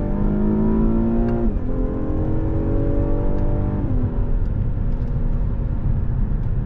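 A Cadillac CT6 with a V6 engine pulls hard from second gear in a roll from about 40, its steady engine note rising in pitch with two upshifts, loud and continuous from inside the car.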